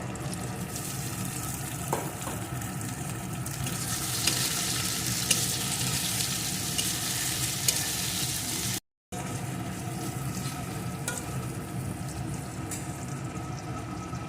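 Chopped tomato and four or five torn green chillies frying in a pan for an old-style potato lentil dish with snakehead fish, a steady loud sizzle with stirring scrapes throughout and a brief break near the middle.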